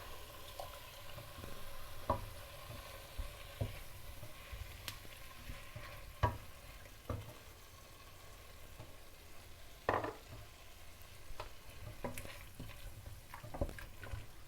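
Tomato sauce sizzles softly in a pot of Moroccan harira soup with lentils while a spoon stirs it, giving intermittent scraping clicks over a low, steady frying crackle.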